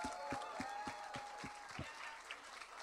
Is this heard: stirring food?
no